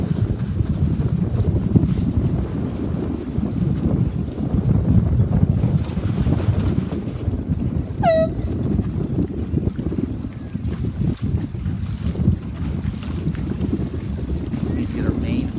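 Steady wind rushing and buffeting across the microphone on the water during a Sabot junior sailing dinghy race in about ten knots, continuous broadband roar with a brief faint high chirp midway.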